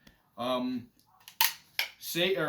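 The safety selector on a Kalashnikov USA KS-12 shotgun clicks twice in quick, crisp, close metallic snaps, with a voice speaking before and after.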